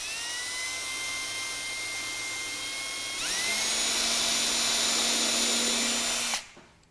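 A power drill runs steadily, boring at a 45-degree angle into wood for a country corner cabinet; the motor whines at one speed, then rises in pitch and load mid-way before spinning down abruptly near the end, with no talk.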